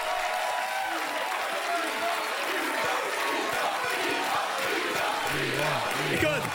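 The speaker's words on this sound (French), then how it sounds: "Écoute, la foule est en délire" A studio audience on The Price is Right roars and cheers wildly, a dense, steady wall of crowd noise with applause, while a host talks over it throughout.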